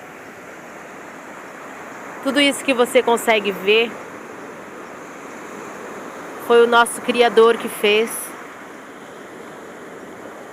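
Sea waves rush and break on the shore as a steady, broad wash of surf, while someone speaks over it in two short bursts.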